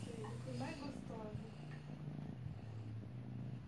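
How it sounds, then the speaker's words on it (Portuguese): A cat purrs close up, a low steady rumble running throughout while someone talks softly over it. "Gente, olha como ronrona."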